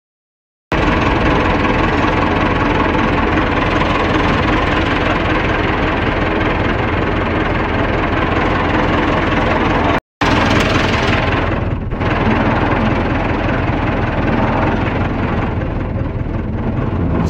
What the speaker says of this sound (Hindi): अगो चुक रहे ने ते ट्रैक्टर नाल हल्का हल्का जोर लवा रहे हैं